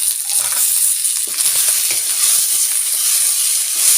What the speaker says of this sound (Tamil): நல்லா வதங்கி வரட்டும் வெங்காயம்